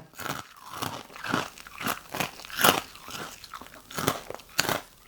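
Crunchy baked Shovy fish sticks being bitten and chewed up close, sharp crisp crunches repeating in a steady rhythm about every half second, with no speech.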